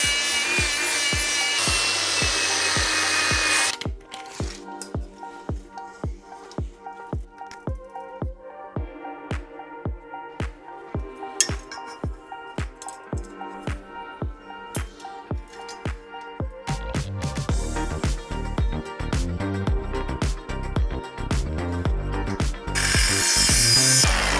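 A power tool cuts metal for the frame of a Honda-powered Porsche 911, with a steady stream of rapid, evenly spaced rasping strokes, close and loud, giving way to a harsher, denser grinding toward the end, with no talk.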